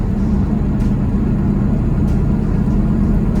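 Car with a mail order tune cruising along, a steady loud low engine drone and road rumble from inside the cabin, unbroken for the whole stretch.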